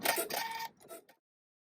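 Embroidery machine stitching a felt applique vine, a brief buzzy mechanical whir with rapid stitching pulses that stutters and then stops into silence.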